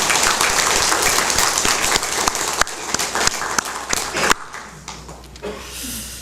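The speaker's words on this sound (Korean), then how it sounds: "우리 다 같이 박수로 하나님께 영광 돌립시다." A church congregation applauds loudly and densely, individual claps growing sparser and more distinct before the clapping fades out abruptly, leaving a quiet tail with faint room noise.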